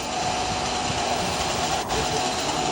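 A runaway Southern train speeds down the line as a continuous, even rumble and rush, close and loud throughout with a brief dip near the end.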